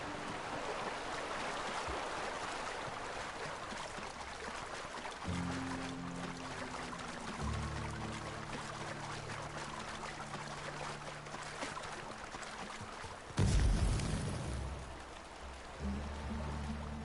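Steady broadband rush of a waterfall in The Outer Worlds, continuous and moderately loud, with low tonal game music layered underneath and a brief louder swell near the end.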